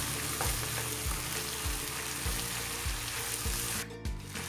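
Tuna and ham fry loudly in a pan under a dense, constant sizzle, while a utensil stirs through them in a slow, regular rhythm of scraping strokes, close up and with no talk.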